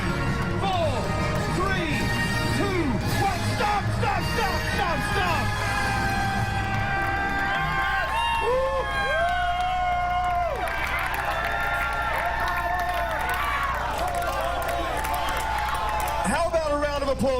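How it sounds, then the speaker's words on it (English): Outdoor Ribfest crowd cheering, whooping and applauding contestants after a timed contest, with loud dense noise throughout, a voice over a loudspeaker, and music mixed in. "applause for all our contestants."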